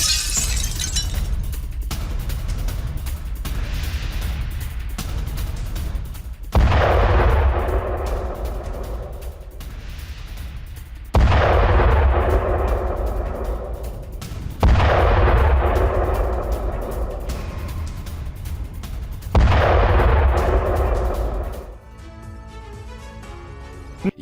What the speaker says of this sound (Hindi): रूसी आर्टिलरी यूनिट का एक्शन